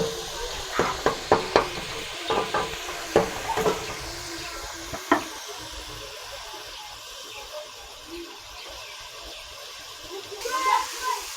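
Cabbage cooks with a steady sizzle in a pan while a utensil stirs and scrapes it in several quick bursts, close, then quieter frying continues alone.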